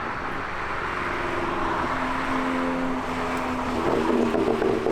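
A Volkswagen GTI with an APR Stage 2 tune drones steadily from its engine and exhaust, a continuous low hum that builds slightly toward the end, heard alone without speech.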